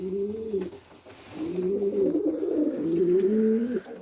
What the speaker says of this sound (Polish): Inne gołębie sobie gruchają